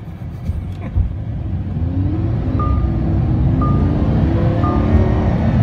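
Lamborghini Huracan sports car engine revving and rumbling loudly while driving, a steady close-up drone that builds slightly, with a few short beeps over it.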